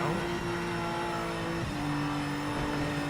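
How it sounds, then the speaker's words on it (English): A BMW race car engine in the Project Motor Racing simulator game holds a loud, steady, buzzy drone with sustained engine tones and slight pitch shifts, heard alone with no talking. "the BMW has this generic sound on a lot of sims, and here it's shouting"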